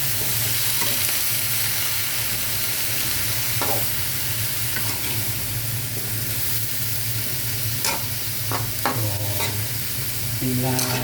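Vegetables for pakbet fry in a pan with a steady loud sizzle, while a utensil stirs and scrapes against the pan in occasional clinks.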